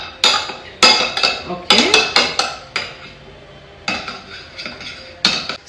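Ingredients for Afghani prawns beaten in a bowl with a utensil, producing a quick series of sharp clinking strikes in irregular bursts, close and fairly loud, with a brief word spoken.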